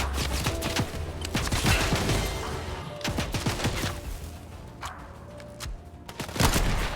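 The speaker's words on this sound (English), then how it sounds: "Who's shooting at me?" Video game gunfire crackles in dense, rapid bursts of shots and booms aimed at the player, loud and close, continuing throughout the clip with little pause.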